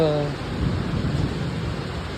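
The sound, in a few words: rain and thunder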